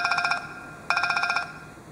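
Standard phone ringtone on an HTC Evo Android phone: two bursts of rapid trilling electronic ringing separated by a short pause, clear and close with no talk.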